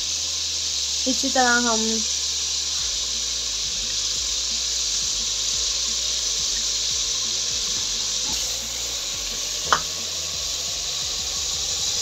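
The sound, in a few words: masala sizzling in pan after adding water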